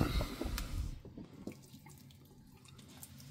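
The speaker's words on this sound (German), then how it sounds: "Und jetzt gießen wir hier ganz vorsichtig die Erde mal an." A watering can pours gently onto soil in a living-soil garden bed where young plants are being transplanted, a close trickling and splashing that is strongest at first and then thins to soft drips.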